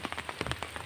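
Light drizzle falls on a surface during overcast weather outdoors, heard as steady soft patter with brief, fairly close droplet taps at a low level and no talking.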